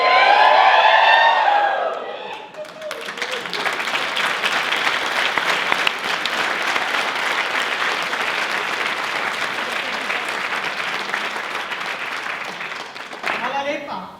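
An audience claps steadily and densely for the Leščeček folk dance group at a 2019 Ljutomer show. The applause starts after a sung whoop and goes on loud and even for about ten seconds before voices return.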